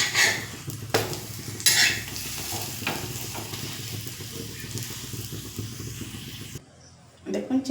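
A sweet chana dal paratha cooks on a hot tawa with a steady, close sizzle and frying crackle, broken by a few scraping stirs and clinks, before fading to near quiet with a final clatter.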